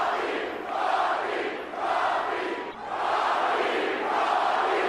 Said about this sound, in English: this capacity crowd, packed to the rafters,